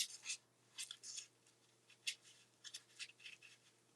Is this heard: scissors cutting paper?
yes